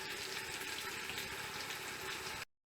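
Onions fry in a pan for lamb or mutton vindaloo, a dense, steady sizzle that stops abruptly near the end.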